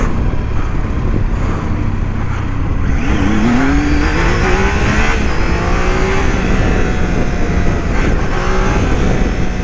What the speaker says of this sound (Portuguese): vamos ver quanto que essa moto bate de final